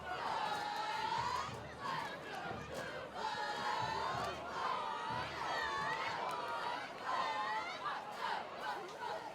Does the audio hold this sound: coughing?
no